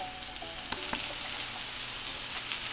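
Stuffed chicken breasts browning in a frying pan give a quiet, steady sizzling hiss with a couple of faint pops.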